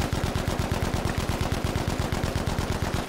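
A tank's roof-mounted machine gun in Battlefield V Firestorm fires one sustained, rapid burst of evenly spaced shots, loud and close, with no talk over it.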